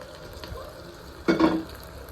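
Okra tipped into a pan of frying fenugreek, mustard seeds, onion and garlic, giving a brief loud burst of sizzle and stirring over a low background hiss.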